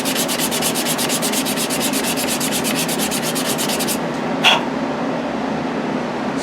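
Sandpaper of 80 grit rasps over a wooden Native American flute as it is turned, a rapid, regular scrubbing pulse that stops abruptly, followed by one short scrape alone.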